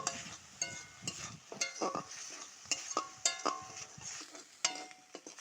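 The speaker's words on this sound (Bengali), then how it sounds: "এবার খাসির চর্বিগুলো দিয়ে দিলাম এবার নেড়ে নেব ভালো করে চর্বিটা ভেজে নিব" Goat fat fries in a pan while a utensil stirs it, giving repeated scraping clinks and knocks over a quiet sizzle, with no talking.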